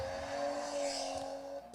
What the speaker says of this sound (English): But it's literally just car sounds.